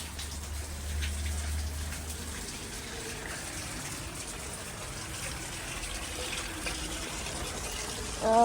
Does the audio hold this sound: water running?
yes